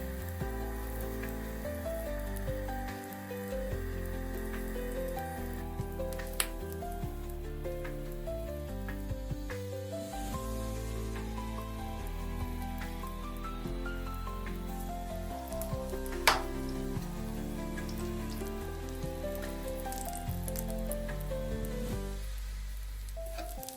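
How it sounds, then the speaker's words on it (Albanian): Kofte fry in a hot, lightly oiled pan, a loud continuous sizzle and crackle with a few sharp pops and faint stirring throughout, no voices. "I skuqim mirë në të dyja anët derisa qoftet të kenë marrë plotësisht ngjyrën e artë"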